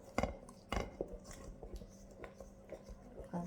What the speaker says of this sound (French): J'ai mis trois sortes de farine avec un œuf et je mélange.